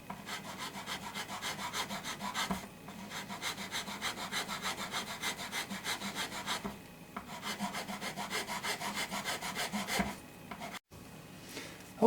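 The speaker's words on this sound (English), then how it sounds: "we're just going to take the top of this nut down some here" Steady back-and-forth filing on the nut of a Squier Fender Stratocaster, close rasping strokes in a regular rhythm with two short pauses, and no talking.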